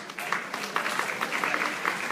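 An audience at a public safety town hall applauds in a dense, steady patter of many hands, moderately distant and fairly quiet, with no talk over it.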